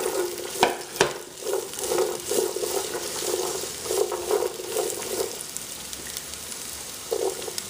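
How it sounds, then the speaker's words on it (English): Shrimp with celery and peppers being stir-fried in a pan, a loud sizzle with rhythmic scraping and tossing strokes in quick bursts, easing off toward the end. "I just want to give it a quick stir fry here. Then we're gonna come and put our celery in."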